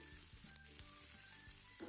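Vegetables sauté in oil in a kadhai, a soft close sizzle with the regular scrape and knock of a spatula stirring, and no voices.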